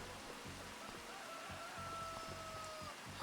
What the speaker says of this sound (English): Ah, here comes the rain.